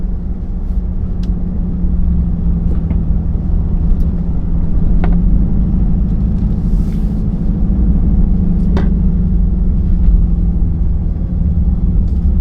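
A straight-piped 2022 Chrysler 300 S rumbles with a loud, steady deep exhaust drone, heard from the cabin, with a few faint clicks above it and no talking.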